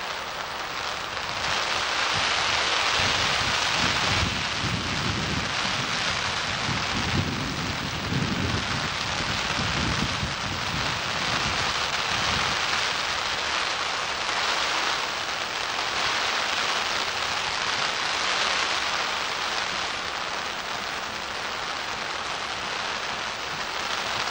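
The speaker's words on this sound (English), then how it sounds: "Just don't see that much rain up here." Steady rain pours down outdoors on a cool day, a dense, continuous hiss of drops hitting surfaces nearby, holding even and loud throughout with no voices.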